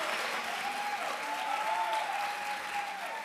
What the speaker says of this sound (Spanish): otro aplauso, por favor, para Guillermo